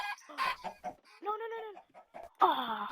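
Minecraft chickens cluck and squawk in short, repeated bursts, close and fairly loud, with several calls spread across the clip.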